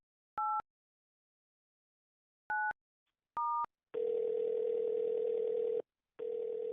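A telephone handset during a phone call: three short keypad tone pairs, then a steady, clear dial tone that breaks off briefly and resumes. The tones sound close and alone, with no talking.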